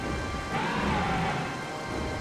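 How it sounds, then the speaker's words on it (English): Steady rain hisses throughout in Twilight Princess, with a soft rumble of thunder rolling under it for about a second. "And now it's raining to make things even more epic."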